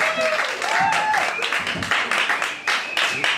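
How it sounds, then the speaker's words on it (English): Audience applause at an evening event, steady clapping from a crowd with cheers and voices mixed in, fairly loud and continuous for a few seconds. "Give him a round of applause."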